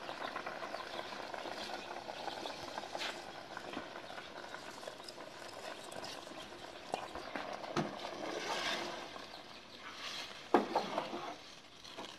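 Water for rice pulao comes to a rolling boil in a pot over a village cooking fire, giving a steady bubbling patter throughout with a few louder pops near the end.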